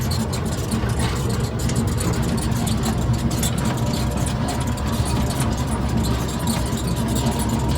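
An auto-rickshaw engine runs steadily while the vehicle drives along a road between Sahrail and Kalindi, a loud, close, even drone with road rumble and no clear speech.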